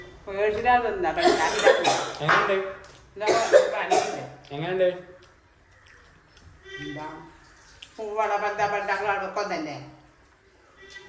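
Several bursts of harsh coughing and throat clearing, close and loud, separated by short pauses.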